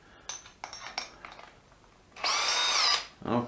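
A Hitachi DV 18DBFL2 cordless drill with a fastener bit gives one short, loud whirring burst of about a second after a few light clicks and taps, then starts up again briefly at the end.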